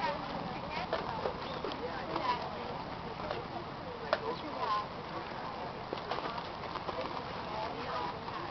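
Horses' hooves clip-clop on the ground of a show ring, a scattered rhythm of light thuds heard faintly in the distance, with an announcer and bird calls in the background.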